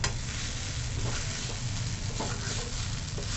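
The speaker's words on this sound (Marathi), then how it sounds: "दोन तीन वेळा मी भाजी चांगली मध्ये मध्ये हलवून घेतली होत आली आपली भाजी" Beetroot vegetable fries in a pan with a dense, continuous sizzle and crackle, close and fairly loud for the whole moment, with no voices.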